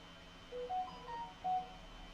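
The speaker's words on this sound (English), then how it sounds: "Sorry about the phone going off" A phone goes off with a faint electronic tone pattern, a few short beeps of differing pitch sounding softly in a quiet room.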